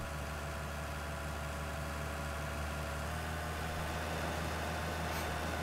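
Tractor engine in a farming video game, a steady low idle-to-rev drone with constant harmonic hum held loud and close throughout, no talk.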